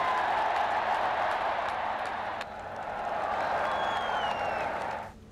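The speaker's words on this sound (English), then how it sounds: "just then came a thunderous round of applause" A large crowd in India applauds a speech by Donald Trump. The clapping is dense and sustained, dips briefly midway, swells again and then fades out near the end, with faint voices in the background.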